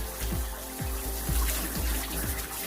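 Water sprays steadily from a hose to wash droppings from a pen of muscovy ducks and ducks, a continuous close hiss with faint low pulsing underneath.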